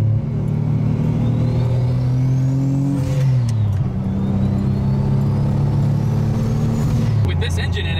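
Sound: Nissan 240SX S14 with VQ35HR turbo engine revving on downshift

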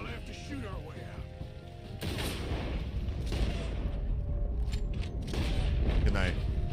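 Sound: gunfire in the video game Red Dead Redemption 2

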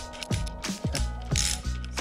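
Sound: ratchet tightening bolts on motorcycle handlebars

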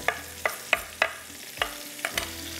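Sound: vegetables added and stirred into bhuna gosht in a pan

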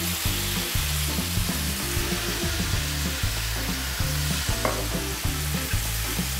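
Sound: chanterelle mushrooms frying in a pan

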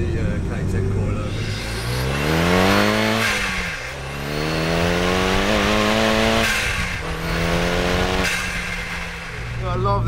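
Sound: turbo Renault Kangoo van with Megane engine swap accelerating

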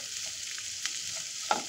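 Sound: onions and poha ingredients frying and being stirred in a pan

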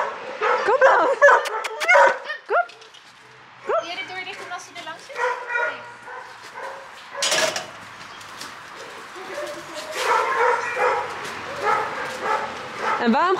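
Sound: dogs barking at an animal shelter

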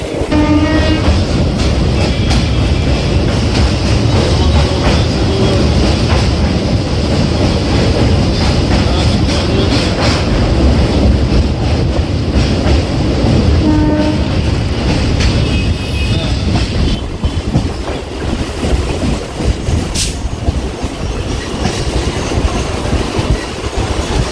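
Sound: Howrah–Sealdah local train running, horn sounding

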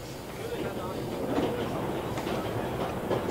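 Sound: train moving on rails in video game 11-11: Memories Retold

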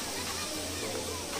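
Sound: waterfall

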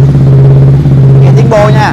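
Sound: motorcycle engine revving with Akrapovic aftermarket exhaust

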